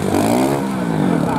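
A trial motorcycle in third gear climbs a final step at the Trial GP in Sestriere, Italy, its engine note held tight and close, wavering briefly as the bike pulls up.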